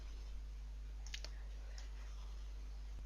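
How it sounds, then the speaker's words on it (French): A single computer mouse click, sharp and close, followed by a second faint click after a short pause, over a steady low hum in a quiet room. "Je clique sur OK."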